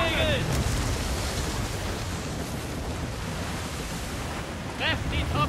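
Wind and waves at sea in Assassin's Creed Rogue, a steady broadband roar of surf and gusting wind that holds for the whole stretch, with a voice speaking faintly beneath it near the start.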